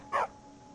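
A single short, faint dog bark in the video game Skyrim, one quick yelp standing alone over quiet background ambience.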